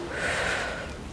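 One short, breathy inhalation through the nose and mouth during a breathing exercise, close and soft, alone.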